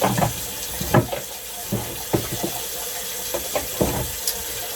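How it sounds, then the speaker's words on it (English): Tap water runs into a sink for a quick rinse while shaving, a steady splashing stream broken by intermittent louder splashes and clunks, close and alone with no talk. "So we'll go ahead and rinse real quick."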